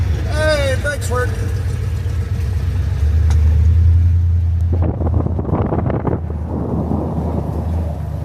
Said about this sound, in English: Sounds like the transmission might be making some noise